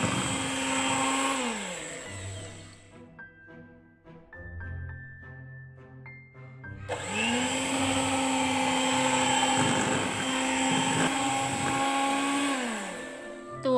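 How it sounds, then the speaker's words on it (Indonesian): A handheld electric mixer whirs steadily through a batter of grated cassava for steamed putu ayu cakes, loud and close, dropping out briefly mid-clip while a lighter clink sounds before the motor picks up again. "Lalu, mixer sampai benar-benar rata."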